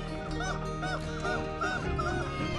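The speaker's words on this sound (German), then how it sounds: "An einem kleinen Felsabschnitt wird es laut. Möwen haben den Felsen besetzt und sich häuslich eingerichtet." Seagulls calling from coastal rocks, a crowded colony giving repeated loud, harsh, rising-and-falling cries that overlap continuously over a steady background hiss.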